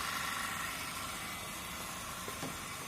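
A three-phase induction motor runs steadily near 1500 rpm, close to synchronous speed, giving a continuous even hum with a broad hiss spread across the clip and no talk.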